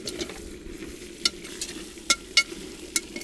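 Plov with sweet paprika and chili is stirred in a pot, a steady quiet sizzle of frying under a handful of sharp scraping and clinking strokes from the spoon against the pot.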